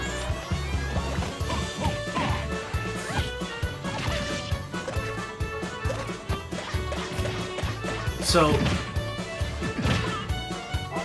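Banjo-Kazooie battling in Super Smash Bros. Ultimate, with a steady stream of game hits, smashes and thwacks over busy music and a loud crash near the end, while a person speaks briefly.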